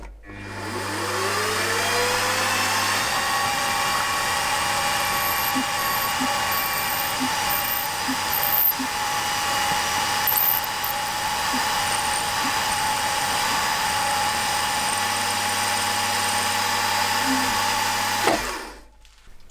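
A drill with a 5.5mm bit boring into metal spins up to a steady high-pitched whine and runs continuously for about fifteen seconds, with faint ticks underneath, then winds down.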